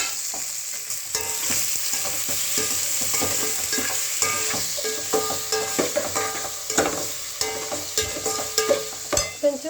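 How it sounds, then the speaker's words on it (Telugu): Tomatoes fry in oil with meal maker soya chunks, a steady sizzle broken by rhythmic stirring and scraping of a spoon against the pan that grows more pronounced toward the end. "మిల్ మేకర్ కొంచెం నూనెలో వేగాక టమాటా వేయాలి"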